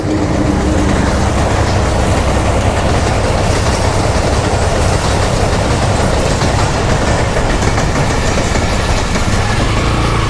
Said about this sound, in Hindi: ट्रेन भी आ गई है जी